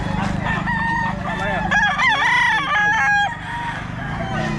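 Several roosters crow repeatedly over a steady background of clucking fowl, loud and close, with overlapping calls.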